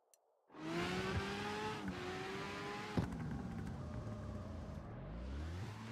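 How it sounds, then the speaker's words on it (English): Car engines rev loudly and continuously in the CarX Street racing game, with rising and falling engine tones, gear changes and a sharp pop near the middle, alone without talk. "These engines are freaking loud."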